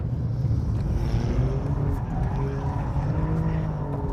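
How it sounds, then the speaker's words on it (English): Sports car drifting on a test track, its engine roaring in a steady, loud drone as the tyres slide and squeal throughout, close up with no talking. "I'm going to see how easy this car is to slide"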